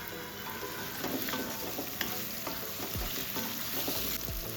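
Onions and tomatoes sauté in a pan for an intestine curry, a continuous close sizzle with stirring scrapes and a few louder clinks of a spoon, without talk.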